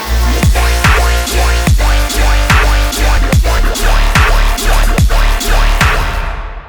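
The finished electronic track plays loud and dense, with a steady, punchy kick pattern driving under layered synths for several seconds before it cuts off.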